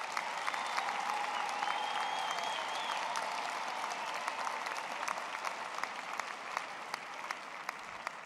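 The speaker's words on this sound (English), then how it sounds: "Let us give our graduates again one big hand of applause for that." A large crowd at a graduation ceremony claps steadily and continuously, a dense wash of applause at moderate distance that holds for several seconds.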